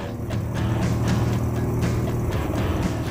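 British motorcycle with a short, lightweight exhaust and no mufflers, a loud, raw engine note rumbling steadily up close for a few seconds.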